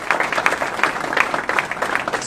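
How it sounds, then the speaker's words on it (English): Applause from an audience at a community conversation evening with law enforcement leaders, a moderate, steady crowd clapping that stays fairly even throughout. "give them another round of applause"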